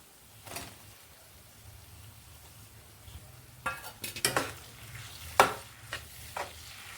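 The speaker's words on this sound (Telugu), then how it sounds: "ఇప్పుడు టమోటా ముక్కలు వేసేద్దామండి." Tomato pieces fry in a pan for an okra tomato curry, a quiet hiss punctuated by several sharp scraping stirs and clinks of a spoon against the pan near the end.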